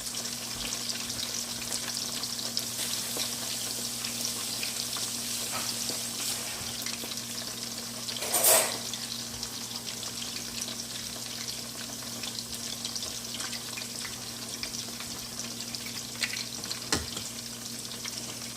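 Shrimp fry in a hot pan with a steady, close crackling sizzle that runs the whole time, broken by a short louder burst midway and a few faint clinks, with no talking.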